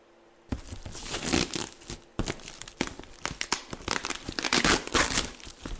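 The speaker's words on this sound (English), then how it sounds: "Just unwrapping my lozenge." A lozenge wrapper crinkles and tears as it is unwrapped, a close, continuous plastic crackle with sharp bursts and brief pauses and no talking.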